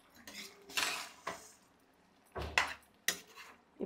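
A spoon stirs gongura chicken curry in a metal pot, giving several loud scraping and clanking strokes in uneven bursts with quiet gaps between, no talking.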